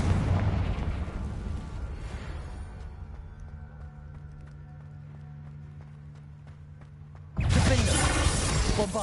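Burst of Confringo fire-spell blasting in Hogwarts Legacy, a loud rumbling explosion at the start that fades into a quieter hum, then a second sudden, dense blast near the end.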